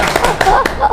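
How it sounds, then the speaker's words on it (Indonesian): Hands clap together at a podcast in a short, uneven burst, with several sharp claps across about a second and a steady murmur underneath. "Tepuk tangan"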